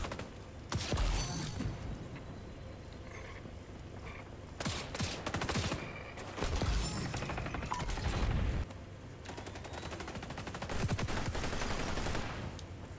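In the video game XDefiant, a PP19 submachine gun fires repeated rapid bursts of loud, crackling shots, separated by brief lulls filled with mechanical clatter, with no talking.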